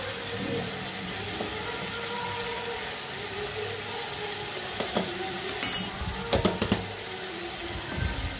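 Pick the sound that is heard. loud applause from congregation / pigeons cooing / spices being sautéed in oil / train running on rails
spices being sautéed in oil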